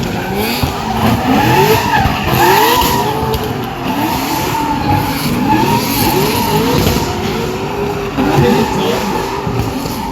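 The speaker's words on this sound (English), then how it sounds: "Just popping the tailpipe in a big way, shooting out some flames." Drift cars run figure-eight sessions at a MotorEx drift show, with tires squealing in long sweeping wails over loud engine revving and repeated exhaust pops, close and sustained throughout.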